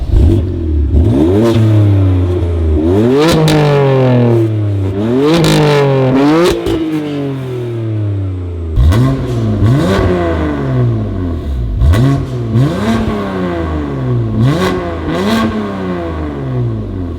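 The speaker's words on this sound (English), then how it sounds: "I feel like I can already hear the different tone in this exhaust just from the startup." A BMW M2 Competition with a new exhaust revs repeatedly, each blip climbing sharply and falling back, loud and close, with a clattering, raspy exhaust note between throttle stabs.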